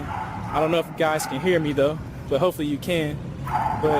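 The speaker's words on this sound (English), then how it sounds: "I'm sorry about the dogs barking." Dogs bark and yip on a main street in Davao City, Philippines, in short bursts mixed with traffic, while someone talks over them almost continuously.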